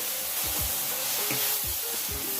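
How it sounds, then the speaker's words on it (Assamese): Ground spice paste frying with onions in a pan for a mutton curry, a dense continuous close sizzle with soft rhythmic scraping strokes of a spoon, no voices. "পিঁয়াজখিনি অলপ ভাজি লোৱাৰ পিছতে এনেদৰে গুলি লোৱা মছলাখিনি ইয়াত দি দিলোঁ"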